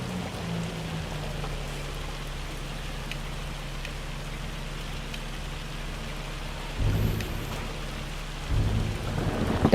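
Hail and a thunderstorm from the farming game Farming Simulator 25, a dense continuous hiss of rain with low rolling thunder swelling near the end.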